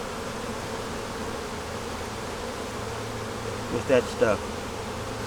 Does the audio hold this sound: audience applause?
no